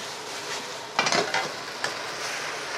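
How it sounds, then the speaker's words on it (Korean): Abalone porridge stirred in a pot with a spoon, a few scraping strokes and soft clinks over a steady low simmer, close and alone. "타지 않게 잘 저어주시고요"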